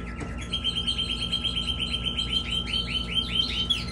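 Canary chicks that are feathering out chirp nearby in a rapid, steady run of thin, high peeps. A constant electrical hum sits underneath.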